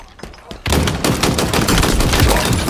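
Sustained machine gun fire in the shooter game Halo Infinite, a loud unbroken burst after a few sharp shots.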